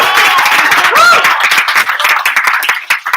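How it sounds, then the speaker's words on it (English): Loud, close audience clapping greets a speaker coming to the stage at a comedy night, dense and continuous, with a brief whoop or cheer rising over it and fading toward the end. "So if you give her a large round of applause, maybe even a giddy hurrah, maybe."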